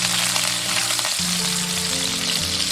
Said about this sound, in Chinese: 锅中倒少许食用油，下入姜蒜、萝卜干炒香